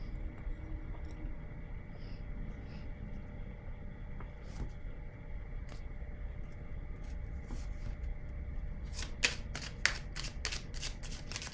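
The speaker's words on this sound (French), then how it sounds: "Je vais déposer une carte encore sur elle." Playing cards are laid down during a tarot-style reading, first faint soft handling over a low background rumble, then a quick run of crisp card flicks and snaps near the end.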